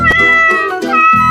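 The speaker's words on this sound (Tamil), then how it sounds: "டேய் பூனை குட்டிடா" A kitten meows loudly and close by, three drawn-out cries in quick succession with brief gaps between them.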